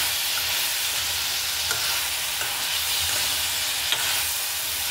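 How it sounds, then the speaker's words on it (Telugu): Bottle gourd curry cooking in a pan, a dense, even sizzle and hiss throughout with faint scraping strokes from stirring, close up and with no talking. "ఒకసారి కూర కలుపుకున్నాం ఫ్రెండ్స్"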